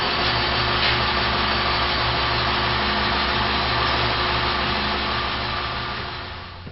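A Gorton tool grinder runs steadily while grinding a shear tool, producing a continuous close mechanical whine and hum that fades slightly at the end, with no talking.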